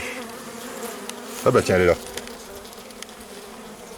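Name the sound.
honeybees buzzing around a hive frame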